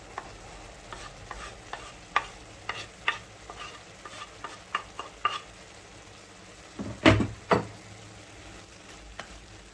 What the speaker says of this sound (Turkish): Doğramış olduğum soğanımı dökeceğim.